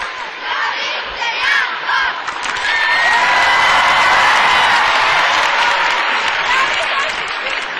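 An arena crowd at an exhibition match calls out and chants together, a loud, dense wall of voices that swells and holds, with shouts and whoops rising above it.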